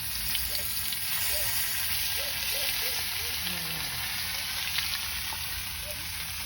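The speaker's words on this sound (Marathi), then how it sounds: "तेल पण गरम झालंय. आता मी ह्याच्या बोटी सोडून घेते." Chilapi fish pieces fry in hot oil in an iron pan over a wood-fired clay stove, a steady loud sizzle and crackle filling the whole stretch without a break.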